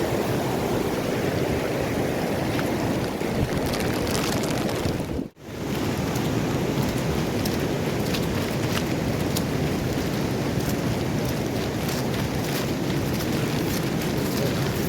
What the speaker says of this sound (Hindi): अभी बारिश गिर रहा है